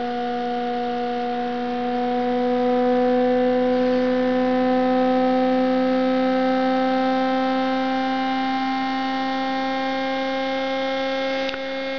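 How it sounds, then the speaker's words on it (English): Muller motor with one coil shorted, a steady, loud electrical hum made of several sustained tones that rise gradually in pitch as the motor speeds up, with no talk. "the RPM goes up when this coil is shorted, and the speed really goes up"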